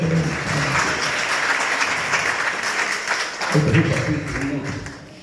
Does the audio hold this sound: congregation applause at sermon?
yes